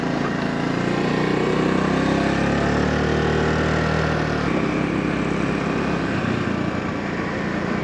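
A Honda Navi motorbike pulls away under its automatic transmission, a steady close engine drone with a low rumble that shifts pitch partway through as it changes itself, with no talking.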